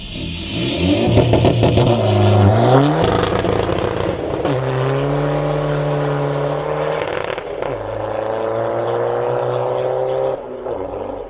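A Volkswagen Lupo engine revs up in first gear on a closed private road, rising in pitch, dropping as the gear changes, then climbing steadily again as the car pulls away, loud and close, with no talk.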